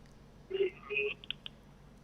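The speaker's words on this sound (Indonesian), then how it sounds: "Saya coba mengangkat line telepon." A telephone line is picked up during a morning call-in radio broadcast, and a few short dialing and line tones follow in quick succession over a faint hiss.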